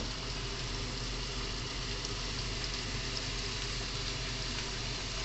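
Onions frying in a pan, a steady, even sizzle holding at a moderate level throughout, with no pauses and no talking over it.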